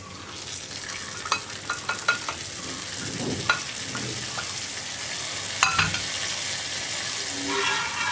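Fried garnish goes into pazham pradhaman, a banana payasam, with a steady close sizzle. Light clinks and stirring scrapes of a spoon run through it.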